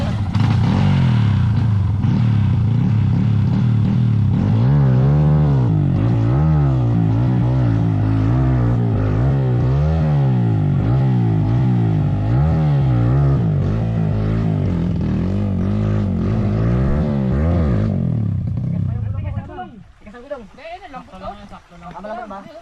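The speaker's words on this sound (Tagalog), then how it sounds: "O yung gamit ko 200cc na Rusi." A Rusi 200cc motorcycle engine droning loudly and steadily while riding, revs rising and falling in wavering pulses before dropping off near the end, with someone talking over it.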